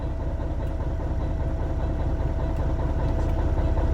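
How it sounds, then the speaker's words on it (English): Diesel truck engine in a Detroit-powered rig idling, a loud, steady low rumble with a fast regular throb heard close by, no speech over it. "Let's go ahead and idle her up."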